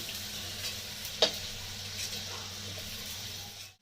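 Small prawns frying in mustard oil give a steady, close sizzle with one sharp clack of a utensil early on, continuing evenly until it cuts off at the end.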